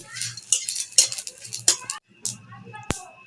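Whole spices including black pepper and bay leaves dropped into oil in a pan, heard as clinks and scrapes of a utensil against the pan over a light sizzle, with short bursts and a sharp metallic knock near the end.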